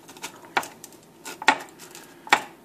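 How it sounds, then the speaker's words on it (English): A knife scraping and clinking around the edges of a metal muffin tin holding mini pecan muffins, three sharp metallic taps spaced about a second apart with light scraping between, close and fairly quiet. "What I do is just take a knife and just carefully go around the outside edge"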